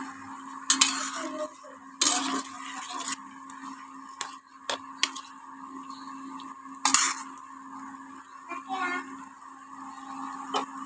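Chutney cooks in a pan while a utensil clanks and scrapes against it in short, irregular bursts, close by, with a person talking between and over the knocks.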